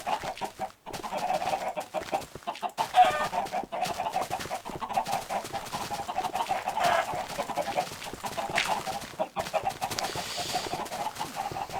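Chickens in the Minecraft video game cluck repeatedly in a steady, busy stream of short calls at moderate loudness, with continuous game ambience underneath.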